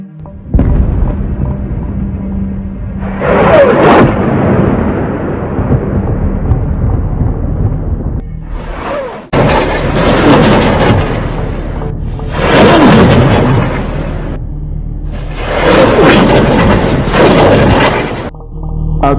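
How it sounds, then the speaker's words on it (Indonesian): Rocket fire and explosions during a barrage fired by Palestinian militants from the Gaza Strip toward Israel, heard as loud, rolling booms and rumbling blasts that swell in repeated waves, alone without speech. "Suara roket itu tampak bersaut-sautan dengan sesekali disertai bunyi ledakan."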